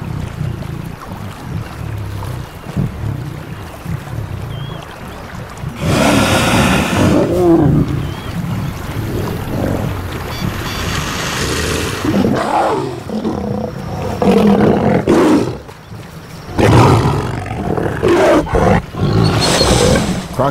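A lion pride feeds on a dead hippo washed up on a riverbank, with loud, close roars and deep growls coming in several heavy bursts over rumbling wind-like noise.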